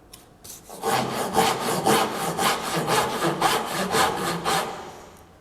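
A hand saw cuts wood for a dovetail on a split-top Roubo workbench build, with about a dozen steady, rhythmic push strokes, close and clear, each one a bright rasping swish.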